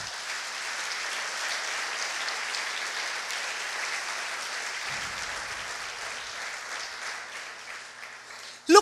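A church congregation applauds in a continuous, even roar of clapping that fades slightly toward the end and closes with a brief sharp knock.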